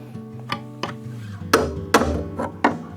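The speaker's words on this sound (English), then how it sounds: "I've got a hammer here that I'm tapping on the screwdriver with." Six sharp metallic taps, a hammer striking a screwdriver, spaced unevenly with brief ringing after each hit.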